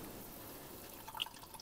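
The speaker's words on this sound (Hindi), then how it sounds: "इसका पानी जो है इसको स्क्वीज़ कर देना है" Soaked bread squeezed by hand in a kitchen releases a few faint, scattered drips of water, mostly toward the end, over a quiet background.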